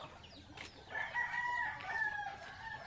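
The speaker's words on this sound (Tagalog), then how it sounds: "Dami na yung manok ni Madir." A rooster crows in a backyard among a flock of chickens, its drawn-out call rising and falling over about two seconds while hens cluck softly nearby, moderately distant.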